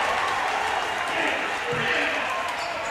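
A crowd at a boys high school basketball game, Vandegrift vs. Westwood, cheers and applauds after a layup. The roar is broad and steady and stays loud throughout, with a commentator talking over it.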